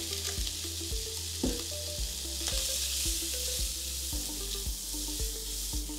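Shallots and carrots fry in a pan, a continuous crackling sizzle with repeated clinks of a utensil stirring against the metal, close and steady with no talk.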